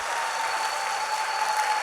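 A church congregation applauds in praise, a brief burst of continuous, fairly loud clapping with a faint steady tone underneath.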